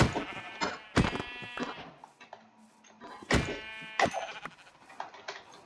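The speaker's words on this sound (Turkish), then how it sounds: "Orada bir tane beyaz koyun var." Sheep bleating in Minecraft, a few separate wavering bleats heard near and clear, with soft game thuds between them and no talk.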